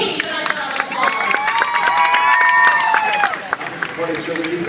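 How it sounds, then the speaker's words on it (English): A live audience at a Fear Factor show at Universal Florida applauds and cheers for two competing teams, a loud crowd roar with clapping, under a steady tone and an announcer's voice. "Let's give both teams a nice round of applause."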